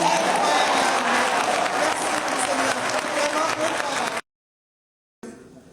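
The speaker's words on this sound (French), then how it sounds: "Alors faisons un applaudissement." Concert audience applauding in a hall, a dense, loud wash of clapping that runs steadily, then cuts to silence before resuming faintly.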